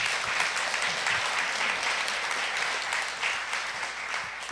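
An audience at a church forum's closing ceremony applauds, a dense steady wash of clapping that holds through the whole stretch at a moderate distance.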